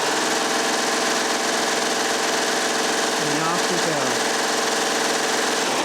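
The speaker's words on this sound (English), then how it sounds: "Now we can have that all the way up to the fullest, highest speed." A Baby Lock Triumph serger runs a rolled hem at full speed, giving a loud, steady, rapid mechanical whir and chatter that fills the clip without pause.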